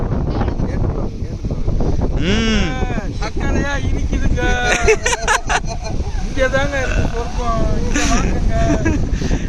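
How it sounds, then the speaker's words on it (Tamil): Strong sea wind buffets the microphone at the shore, a constant rough roar mixed with distant surf under loud, close conversation between friends eating freshly caught fish. "அண்ணன் பேசுற கேட்காது. ஏன்னா காத்து அதிகமா இருக்கு."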